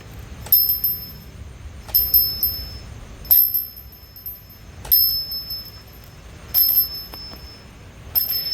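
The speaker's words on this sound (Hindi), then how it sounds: "चलो अब मूषक राज की घंटी की आवाज़ सुनते।" A bell on a Mushak Raj (mouse) figure at a Ganpati pandal rings in six bright, metallic dings at a regular interval of roughly one and a half seconds, each ringing on briefly over a low crowd murmur.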